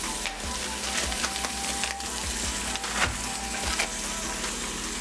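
Thin-sliced steak strips sizzle steadily on a hot flat-top griddle for Philly cheesesteaks, a continuous loud crackle with occasional scrapes and taps as the meat is tossed on.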